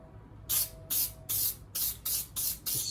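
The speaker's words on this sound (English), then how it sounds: "Just spray some glue on it." Spray adhesive glue is misted onto the seat cloth of a classic Porsche sport seat during reupholstering: seven short, sharp hissing bursts in a steady rhythm, close and loud, with no talking.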